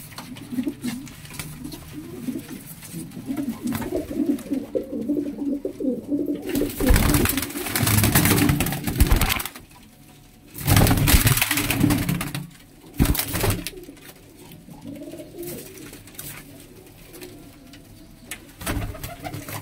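Pigeons in a Faisalabad loft coo and murmur in low, throaty calls through most of the stretch, with louder broadband bursts and rustling in the middle and no talk.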